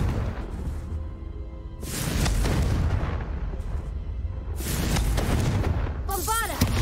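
A Confringo spell in Hogwarts Legacy detonates in broad, rumbling blasts that swell and linger, with a fiery roar filling the space between them and a short voiced cry near the end.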